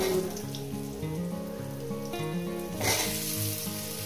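Potatoes frying in a pan for a Bengali katla fish head and potato ghonto give a steady hissing sizzle under background music, with a louder burst of sizzle partway through.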